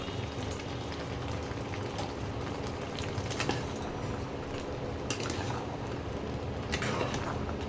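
Taro leaves boil in a pot of water, a steady bubbling hiss with occasional light clinks and splashes, close and continuous throughout.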